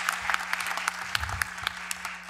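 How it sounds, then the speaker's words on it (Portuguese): A room of event attendees gives José a round of applause at a mediation congress closing, brisk clapping close by over a low steady hum. "Uma salva de palmas para o José"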